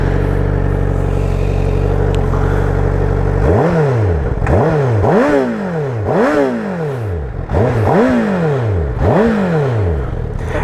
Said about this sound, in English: let you guys hear the stock exhaust